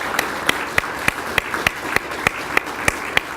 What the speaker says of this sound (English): How about a round of applause for this small quartet here and their music?